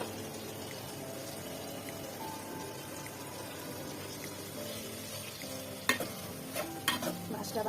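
Fish stir-fried with coriander and turmeric in a pan, giving a steady low sizzle and hiss throughout, followed near the end by a few sharper scraping strokes of the spatula.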